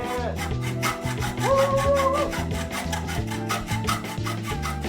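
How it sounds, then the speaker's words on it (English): A hacksaw cutting through the corner of a metal computer case: close, rapid back-and-forth rasping strokes in a steady rhythm, with ringing metallic tones, loud and continuous. "I just took the hacksaw out to get to this last corner"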